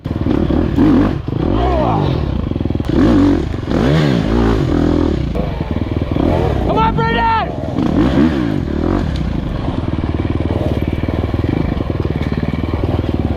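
An enduro dirt bike racing downhill on a rough trail, its engine revving and surging close up with clattering and scraping of the bike over terrain, while a spectator shouts encouragement.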